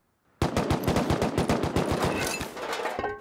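Rapid automatic gunfire in the survival game Rust, a fast burst of sharp, loud shots in steady rhythm lasting about three seconds, close and alone with no talk.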